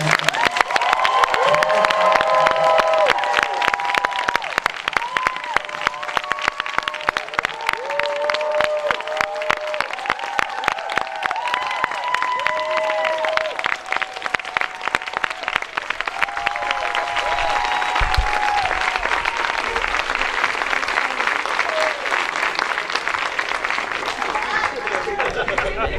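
Audience at a Q&A event clapping and cheering in a long, sustained round of applause, dense rapid claps with scattered whoops and voices rising over it.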